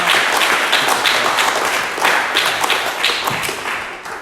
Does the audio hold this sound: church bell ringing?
no